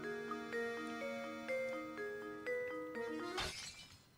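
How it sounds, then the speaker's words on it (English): A vase smashes in the Professor Layton puzzle game: a sudden bright crash of breaking pottery near the end, following a stretch of plinking, clock-like game music. "And he smashes the vase."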